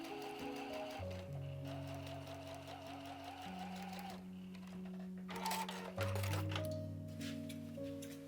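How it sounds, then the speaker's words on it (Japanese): A sewing machine stitches a zipper onto a small fabric bag, running in a steady, fast mechanical whir close by that shifts in pitch and speed as it sews, with no talking. "ここにファスナーをつけます。 上と下縫ってくださいね。"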